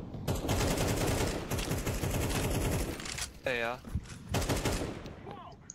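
Counter-Strike 2 gunfire in rapid automatic bursts, loud and close, broken by short gaps, with a player talking briefly over it.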